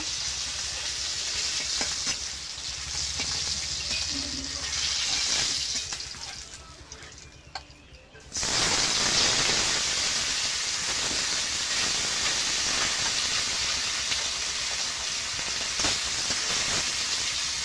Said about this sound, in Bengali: আমি বাকি মাছগুলো ভেজে নেব এভাবে